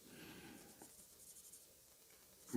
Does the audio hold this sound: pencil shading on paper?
yes